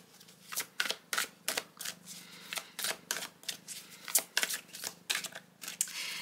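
Tarot cards being shuffled and handled, a quick series of crisp papery flicks and snaps in an uneven rhythm, close and fairly quiet, with no speech.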